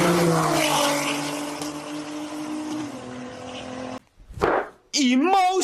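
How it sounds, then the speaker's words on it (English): A Porsche GT2 RS engine in a racing video game holds a steady, loud drone for several seconds, then cuts out abruptly. Brief voices and short sounds follow. "The Porsche GT2 RS."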